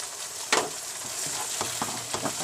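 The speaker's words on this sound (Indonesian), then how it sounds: "kacau-kacau" Beef sambal with calamansi lime and squid sizzles in a pan as a spatula stirs and scrapes it, with a few sharp scraping strokes over a steady, quiet frying hiss.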